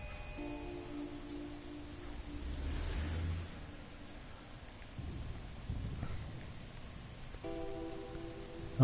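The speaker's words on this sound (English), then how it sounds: "in the acid rain" Acid rain falls on a planet in the video game No Man's Sky, a soft, steady hiss of rain with low rumbling surges and faint tonal game sounds drifting in and out.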